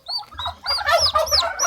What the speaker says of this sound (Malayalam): അപ്പൊ കാട്ടുകോഴി കുഞ്ഞ്